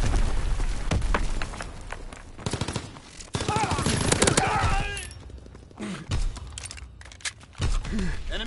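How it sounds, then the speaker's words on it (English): Rapid gunfire and explosive blasts from a Call of Duty WWII multiplayer battle, with dense bursts through the first half, then sparser sharp shots and thuds, loud and close over faint background voices. "Enemy mortar fire incoming."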